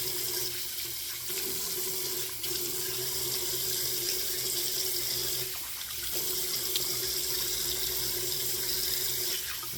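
A tap runs steadily into a sink during rinsing after a straight-razor shave, a continuous close splashing hiss with small dips in level.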